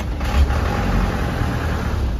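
An Isuzu 4BE1 diesel engine with a misfire runs during a test drive, a loud, close, steady low rumble with a slight uneven pulse and one brief surge near the start. No voices.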